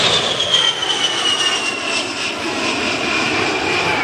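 A-10 Warthog jet at an airshow passing overhead, a continuous loud roaring whine with a high turbine tone that slowly shifts in pitch, steady throughout with no talk.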